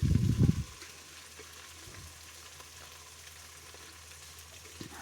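Ginger garlic paste fries with beans and carrots in a pan, opening with a brief loud burst of sizzling and stirring before settling into a quieter, steady low sizzle.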